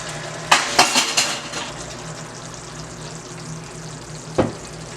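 Vanilla essence being stirred into a candied yam mixture in a pot on a switched-off stove, a few sharp scraping clinks of the spoon against the pot early on, then a quiet stretch and one more knock near the end.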